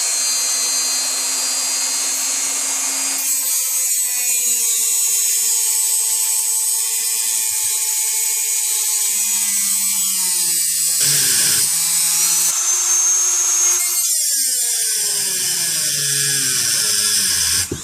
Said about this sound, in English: put a cut into the actual race